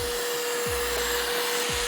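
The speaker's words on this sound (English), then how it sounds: "Now we turn off the vacuum." Vacuum running during a car oil change, a steady whirring drone with a constant hum, broken by a couple of low thumps, loud and close with no talk.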